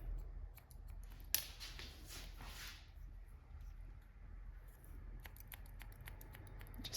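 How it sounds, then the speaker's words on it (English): Scissors point-cutting short hair make a run of quiet, crisp snips and clicks, close up with no voices. "So point cut into this."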